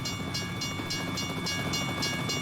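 Trains rolling past in the background, a steady rumble with rhythmic clicks of wheels over rail joints repeating every fraction of a second, continuous and moderately distant with no talking.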